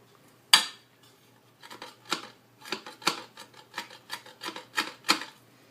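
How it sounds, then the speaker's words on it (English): A knife roughly chops zucchini: one sharp opening strike, then about a dozen quick, uneven cuts close by, with no talking. "I'm going to give it a rough cut first, make it a little bit smaller."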